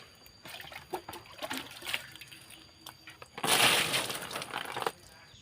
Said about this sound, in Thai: การเติมน้ำก็ไม่ต้องใส่เยอะนะครับ